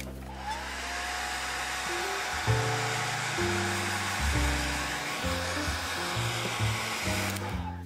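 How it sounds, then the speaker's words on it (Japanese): A hair dryer runs steadily, drying a watercolor pencil painting of a flower field, a continuous close whoosh with fluctuating low tones, stopping near the end. "ドライヤーで乾かします。"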